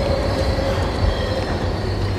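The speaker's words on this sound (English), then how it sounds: "Yo, hurry up, train!" A train in the video game The Outlast Trials rumbles loudly and steadily nearby, with a sustained wheel squeal over the heavy rolling noise.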